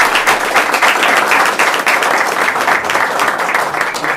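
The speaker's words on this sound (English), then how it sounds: "And how about a round of applause for all these people?" A room full of people at a candidates night held in a library breaks into brisk applause, the individual claps clearly audible in a close, lively and steady burst.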